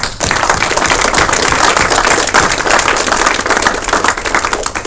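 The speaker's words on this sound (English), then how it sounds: "Give a round of applause." Loud, dense applause from a large audience at a military retirement ceremony, a continuous roar of clapping that holds steady throughout.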